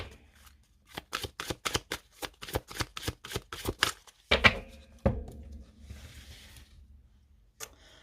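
A deck of tarot cards is riffled in a quick, regular run of crisp flutters at close range, then tapped and squared with a few soft knocks and rustles.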